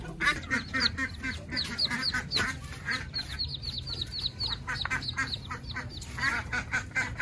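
A group of ducks quacks continuously and fairly close by, with overlapping, rapid calls throughout.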